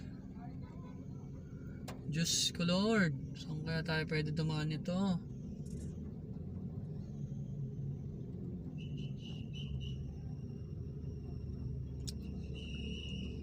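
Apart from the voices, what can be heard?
road traffic in Taguig City during typhoon flooding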